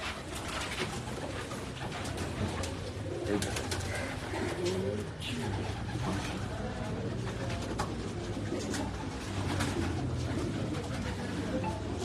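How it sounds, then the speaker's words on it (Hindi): Kamangar pigeons cooing on a rooftop pigeon setup in Karachi, a steady, close, low cooing that runs throughout amid a busy outdoor background, with people talking now and then. "कौन सा है ये कमंगर कबूतर है जी"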